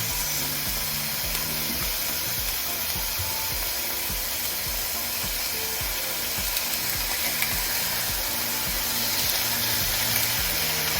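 Large sirloin steak pieces cooking in a hot pan give a steady, dense sizzle and hiss that lasts throughout, with faint rhythmic background music underneath and no talk.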